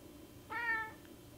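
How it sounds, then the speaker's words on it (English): A pet cat gives a single short, clear meow at moderate distance over a quiet indoor background, with no talk during it. "That's my cat Gomez"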